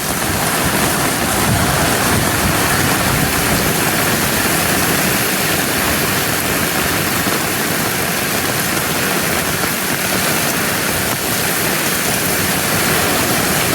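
Dense, steady roar of heavy monsoon rain pouring down, a constant broadband wash with no letup and no voices.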